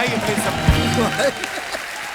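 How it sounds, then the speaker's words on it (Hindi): A television comedy show's studio audience gives brief applause for a film's star cast, the clapping sitting under a host who speaks over it throughout. "एक बार जोरदार तालियां हो जाए गैंग्स ऑफ वसेपुर की पूरी स्टार कास्ट के लिए"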